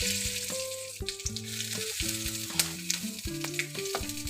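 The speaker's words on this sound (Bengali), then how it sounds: "এবার ওই তেলের মধ্যেই দিয়ে দেবো আমি 2টো শুকনো লঙ্কা, তেজপাতা আর 5 ফোড়ন।" Dried red chillies, bay leaf and panch phoron sizzle in hot oil for a mixed vegetable dish, a steady bright crackle with stirring clatter, but music-like steady tones sit over much of it.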